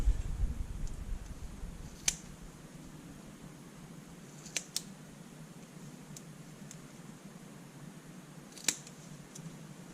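Scissors snipping double-sided tape into sections, a few sharp isolated cuts spaced seconds apart over quiet background hiss, close and fairly soft.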